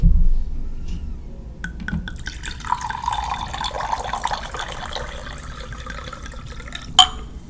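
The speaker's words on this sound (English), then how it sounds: "Time for the pour." A drink poured into a glass, a close, steady liquid stream rising in pitch as the glass fills, followed by a sharp clink near the end, with no talk over it.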